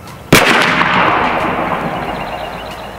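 A single sharp, loud blast from an AEA Zeus .72 caliber air rifle fired at a 50-yard target, followed by a long decaying rush of echo and noise.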